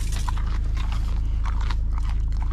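Crunchy vegetarian food is bitten and chewed close up inside a parked camper van, with quick repeated crunches over a steady low electrical hum.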